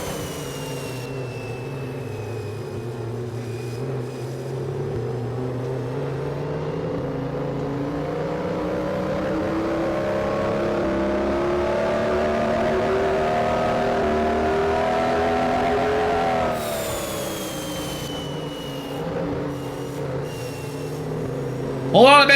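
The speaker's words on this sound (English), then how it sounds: "Listen to the sounds of this beautiful Monster Energy machine right here on the exit." A Monster Energy race car at Gateway, heard from the onboard camera: a loud, sustained engine drone that climbs steadily in pitch, drops suddenly at a shift, then climbs again.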